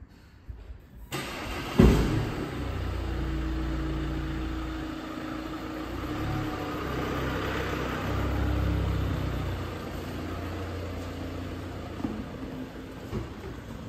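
An Audi A4 pulls away on a road test drive, its engine and low rumble of tyres on the road steady and close from inside the cabin, with a brief knock near the start.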